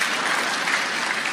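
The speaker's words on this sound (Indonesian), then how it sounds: "Ya, gak usah tepuk tangan." An audience at a church sermon claps briefly: a dense, even burst of applause filling the room for just over a second, with no single claps standing out.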